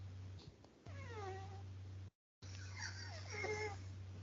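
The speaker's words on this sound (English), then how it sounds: "I hear your cat." A scared-looking cat meows twice, with clear rising and falling cries close to the microphone over a steady low hum and a short gap of silence between them.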